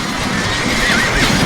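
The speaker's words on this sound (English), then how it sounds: "take that horrible horse with you! It's spooking the others." A horse in the video game Age of Empires II neighs loudly and continuously, its whinny sitting over dense battle noise with no gaps.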